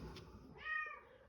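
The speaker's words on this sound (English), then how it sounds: "Oh my goodness, that's a cat." A cat gives a single faint meow, short and rising, after a moment of quiet room sound.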